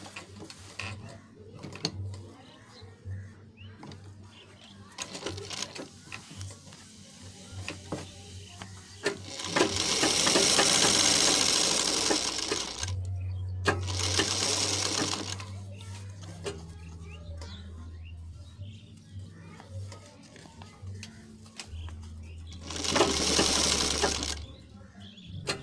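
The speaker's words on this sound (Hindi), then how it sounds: "नेक की यहाँ किनार पे सिलाई लगाना है।" A sewing machine stitches a half collar along a garment's neck edge in several bursts of rapid mechanical whirring, separated by quieter pauses. It is close and fairly faint, with occasional soft talk.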